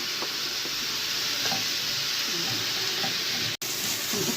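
Onions sizzle steadily in a hot pan while a spoon stirs them, the loud broadband hiss running throughout with scattered scraping clicks and a brief dropout near the end.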